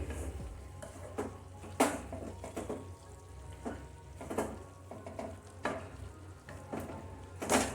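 Potatoes and fenugreek (methi) cooking uncovered in a pan give a quiet, steady sizzle, broken by repeated scraping stirs of a spatula at an irregular rhythm, faint and close, with no voices.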